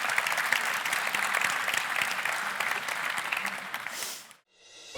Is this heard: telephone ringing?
no